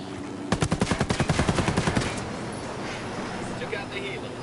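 Rapid automatic gunfire in Ghost Recon Wildlands, a loud burst of about fifteen evenly spaced shots lasting a second and a half, then a steady rotor-like drone from the helicopter with faint scattered noise.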